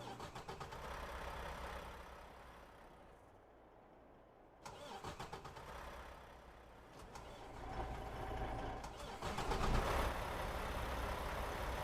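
Truck engines in the TruckersMP driving game crank and rumble into a steady low idle, with a brief lull before another engine starts and the idle rises and continues in the background.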